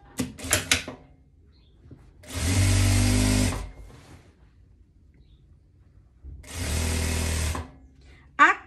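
A sewing machine runs in two short bursts, stitching jacket fabric pieces together for a tailored blazer-style jacket, with quiet handling noises between runs.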